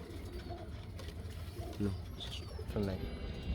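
Pigeons offered for sale, including a high-flyer breeding pair with eggs and chicks, coo in a few short low bursts amid background noise and a murmur of voices.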